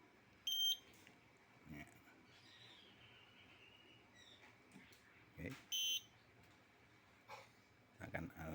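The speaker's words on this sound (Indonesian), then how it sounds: "genset akan dimatikan, jadi genset nggak on lagi dan alarm bunyi" A generator's automatic transfer switch panel sounds short, bright electronic fault beeps in separate bursts after a failed start, heard at moderate distance against a low background hum, with a couple of brief spoken words between them.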